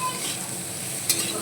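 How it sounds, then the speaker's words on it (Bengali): Jiol fish seasoned with turmeric and salt fry in a pan with a faint, steady sizzle, broken briefly by a quick scrape of stirring near the end. "ভাজা হতে থাকবে। এই যে আমার ভাজা হয়ে গেছে"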